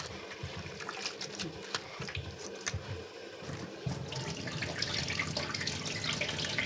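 Water being drained off and poured out, splashing steadily close by, with occasional clatter of a vessel, continuing throughout without pause.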